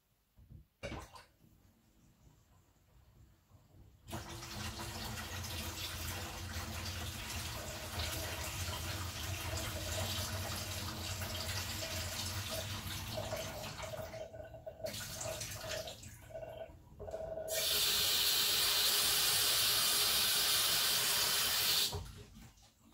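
Cold tap water runs into a bowl to rinse freshly made butter, a steady rushing stream lasting most of the clip that turns to a louder, brighter gush near the end before stopping.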